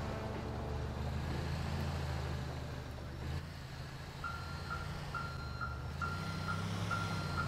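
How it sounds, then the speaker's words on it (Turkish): A truck in the video game GTA 4 reverses to park, its backup alarm beeping in a steady, evenly spaced series over a low engine rumble, fairly faint. "Evet, park ediyor."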